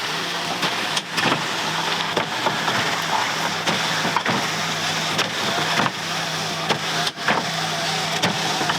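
Whirring motor drone with rhythmic clunks and clicks roughly every second as the powered slatted bed cover of an electric 4x4 truck folds up, heard nearby without talking.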